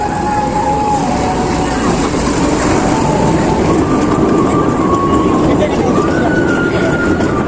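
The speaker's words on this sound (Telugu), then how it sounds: "అదో ఎదురుగా ట్రైన్ వస్తుంది" A small children's ride train rumbles past loudly and steadily in the Pondicherry botanical garden, with a thin sustained tone riding over the noise and people talking faintly.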